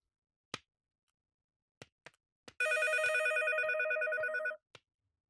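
A telephone rings in a home during a Vietnamese TV drama scene: a few soft clicks, then one steady, bright electronic ring lasting about two seconds, close and clear, with no talking.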